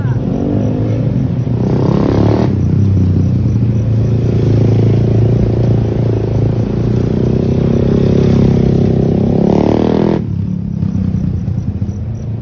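A Honda-style R150 street motorcycle engine drones steadily and loud through a cornering practice run, throttle held and eased with a mid-clip swell before dropping back, no voices over it.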